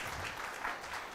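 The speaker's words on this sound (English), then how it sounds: "Please give him a big round of applause." Applause for a keynote speaker at a marketing industry conclave, a soft, steady wash of clapping heard from a distance, low in level and unbroken for its short length.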